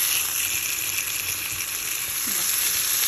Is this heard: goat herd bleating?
no